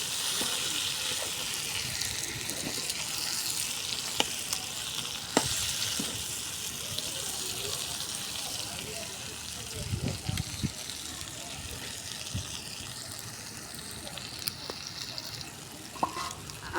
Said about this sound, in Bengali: এভাবে আস্তে আস্তে পটলটা সিদ্ধ হওয়ার পর ভাজা হয়ে যাবে।